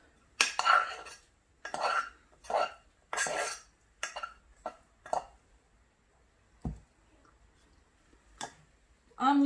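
A leftover vegetable dish being mixed in a pan, several separate bursts of close scraping and clinking of a utensil against the pan, with short pauses between strokes and a final knock.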